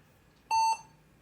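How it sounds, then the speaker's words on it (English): A single short electronic computer beep, clean and steady, lasts about a quarter second against a quiet background, coming from an emulated early Microsoft Word setup on a CGA display from around 1984. "Beeping noises."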